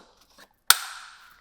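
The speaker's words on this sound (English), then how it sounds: "Now there are these adapters, and all you have to do is click them in." A single sharp plastic click as an adapter snaps into place on a Thule Urban Glide 4-wheel stroller, close and crisp, preceded by faint handling noise and trailing into a brief ring-out.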